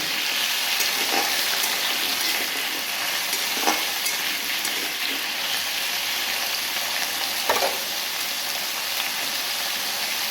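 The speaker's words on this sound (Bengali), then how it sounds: "আলুটা আমি প্রথমে ভালো করে লাল লাল করে ভেজে নেব।" Potatoes frying in a pan for a Bengali vegetarian dish, a steady loud sizzle with soft crackles and a few brief stirring scrapes, close up and alone without talk.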